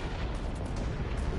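Torpedo explosions in the PS4 naval combat game World of Boat make a dense, continuous rumbling boom that fills the brief moment at steady loudness, with no voices.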